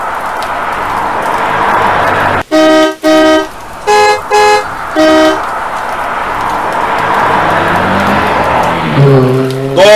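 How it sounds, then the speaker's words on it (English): Heavy road traffic rumbles nearby while car horns blare in a series of several sharp honks, some long and some short, followed by a rising engine rev near the end. "Man, this traffic is serious"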